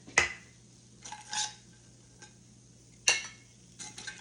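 A clean spatula lifts cornbread from a pan onto a plate, giving a few sharp metal scrapes and clinks spread over a few seconds in a quiet kitchen.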